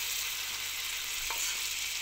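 Flour toasting in hot oil in a pan gives a steady, soft, continuous sizzle close by, with no voices.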